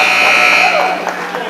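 A loud arena buzzer sounds the end of the first half in a men's basketball game, one sustained electronic tone that cuts off as crowd noise and play-by-play commentary carry on.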